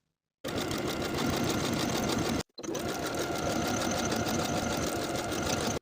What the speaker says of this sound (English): Now I'll sew my buttonholes in place.